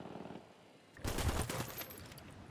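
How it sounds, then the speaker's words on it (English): Gunfire in the video game Ghost Recon: after a quiet, low stretch, a loud dense burst of automatic shots erupts and keeps rattling for over a second, then settles into continued firing and echoing crackle. "I'm shooting these fuckers."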